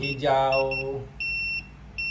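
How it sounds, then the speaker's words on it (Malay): An electrical voltage tester's buzzer gives short, steady electronic beeps in bursts after a person briefly speaks. "Kalau earth pun hijau, dia bunyi buzzer bling bling, tik tik tik tik."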